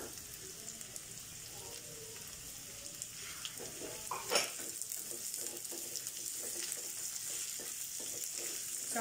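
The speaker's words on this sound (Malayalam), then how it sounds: "സവാള ഒരുവിധം മൂപ്പിക്കണം" Sliced onions sautéing in a pan for fish molee, a soft, low sizzle with intermittent stirring clatter and a sharp clink partway through.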